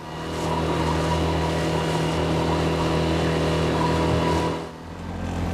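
A motorboat runs on Lake Meteliai, its engine droning steadily and fairly close, then briefly easing off near the end.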